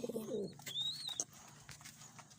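Pigeons making low cooing calls at close range, a short burst of throaty coos at the start followed by a few higher chirps, with no talk.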